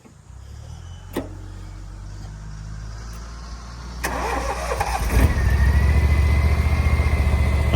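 A utility vehicle engine cranks and catches, then settles into a rough, steady idle close by that grows louder after starting.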